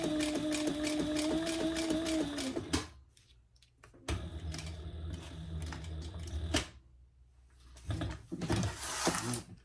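A sewing machine stitches a fabric cover for a composition notebook in close, rapid mechanical bursts, pausing between runs with handling clicks and rustles.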